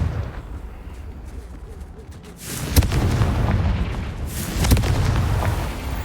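Confringo blasts from Hogwarts Legacy burst over a rumbling battle backdrop, two sharp booming explosions about two seconds apart, loud and close, with no talking.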